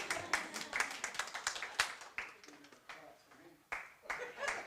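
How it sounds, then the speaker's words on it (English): Audience at a board of directors meeting clapping in scattered, irregular bursts, fairly close, mixed with soft murmuring and a chuckle. "You guys can clap."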